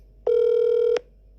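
A single electronic telephone tone rings for an incoming call on a radio call-in broadcast, a loud steady beep of under a second set against a quiet background.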